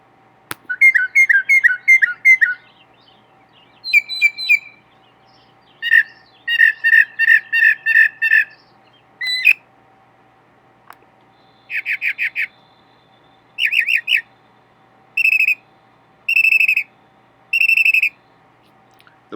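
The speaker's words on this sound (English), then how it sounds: "This bird's famous song, with its varied repetitions and artful imitations, is heard all day during nesting season" A mockingbird sings a varied series of repeated phrases: bright whistled trills, chirps and squawky notes delivered in separate bursts with short pauses between them, clear and fairly close, with no other sounds around it.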